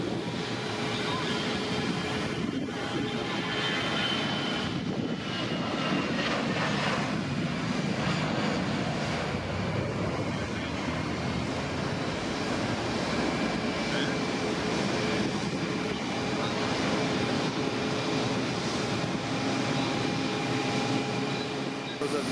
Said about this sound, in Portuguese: Os aviões a aterrar e a levantar